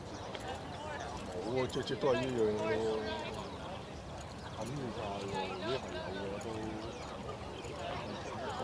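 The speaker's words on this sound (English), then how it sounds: "Okay, we've got Bupat Seemar's horses heading out here." Racehorses heading out on a track for morning gallops, their hoofbeats clip-clopping under steady talk and a busy crowd.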